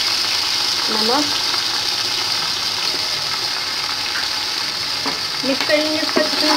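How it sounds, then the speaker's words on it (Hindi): Fried onions with cumin, garam masala, ginger garlic paste and salt sizzling steadily in a pot while a spoon scrapes and stirs, with faint clinks near the end. "मिक्स कर लेंगे इसको अच्छी तरह से।"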